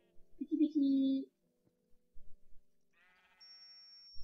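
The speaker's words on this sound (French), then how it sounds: "on va aller chercher un autre mouton" Sheep in Minecraft give a short bleat near the start, a brief clear cry followed by faint scattered game sounds and quiet tones.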